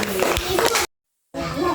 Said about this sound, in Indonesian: Oke, tepuk tangan untuk kelompok siswa.